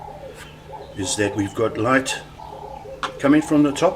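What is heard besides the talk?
doves cooing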